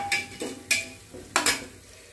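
Whole spices, including cloves, black pepper and flower spice, sauté in oil for Latur-style Nilanga rice. Repeated close scrapes and stirs each bring a short sizzling burst, three or four in a loose rhythm, with no voices.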